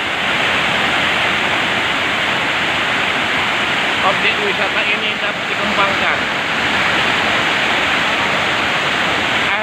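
A waterfall roars steadily in a protected forest at Pulau Tebu, North Sumatra, Indonesia, its dense broadband rush loud and unbroken, with someone speaking briefly over it.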